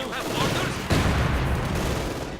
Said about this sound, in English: They just keep firing on us.